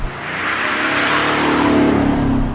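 A 2020 Audi S7 Sportback TDI with an electric supercharger pulling away, its diesel engine droning steadily and rising gently in pitch, heard from inside the car with no talking.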